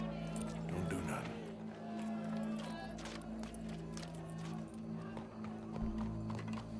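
Horse hooves clip-clopping in Red Dead Redemption 2, with a crowd gathered for a show, a faint, steady trot under nearby talking voices.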